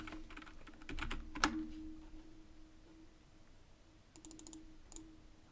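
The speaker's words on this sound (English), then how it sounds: "I'm going to type in average rent cost in Milwaukee, Wisconsin." Typing a search query on a computer keyboard: quick clusters of close keystroke clicks with pauses between bursts, over a faint steady hum.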